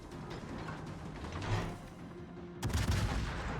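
Heavy naval guns of a Hindenburg cruiser fire in a World of Warships battle, a dense rumbling barrage of shots throughout with a sharp loud burst of salvo fire near the end.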